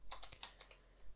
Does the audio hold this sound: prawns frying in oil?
no